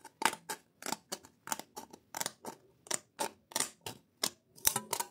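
Scissors snip through a thin strip of nickel in about a dozen sharp, evenly spaced cuts, each one crisp and close, with no talk over them.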